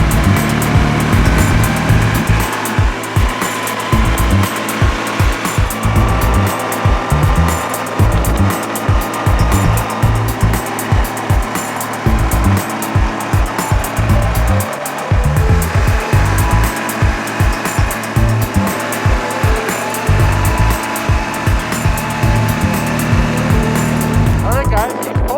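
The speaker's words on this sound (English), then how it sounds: "We start drilling some holes." A powered auger drills holes through lake ice on Lake Winnipeg for ice fishing, its engine roaring loudly and continuously with rhythmic low chugging and varying load throughout.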